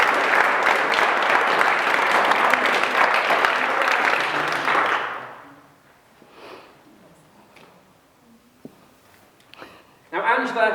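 A round of applause for a speaker before a debate, loud dense clapping from an audience for about five seconds that cuts off sharply, followed by a quiet room with scattered small sounds and a voice starting at the end.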